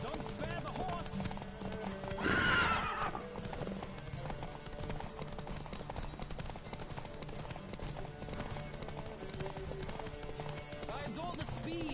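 A horse in The Witcher 3 gallops with rapid rhythmic hoof clops and lets out one loud neigh early on, set against steady game ambience and voices talking.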